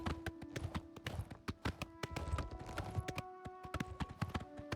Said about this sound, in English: It's cool that he brought his own horse,